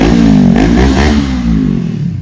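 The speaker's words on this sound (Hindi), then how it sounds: "यहाँ पर इब्राहिम ले रहा है अपने मामों के साथ हैवी बाइक पे राइड" A heavy motorcycle engine revs up loudly nearby, its pitch climbing and then easing back as the throttle settles.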